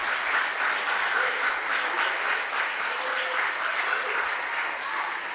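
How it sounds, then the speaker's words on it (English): Audience in a hall applauding the contestants of a junior science and maths quiz, steady sustained clapping at full strength throughout, no voices over it. "I believe that the contestants deserve a resounding round of applause."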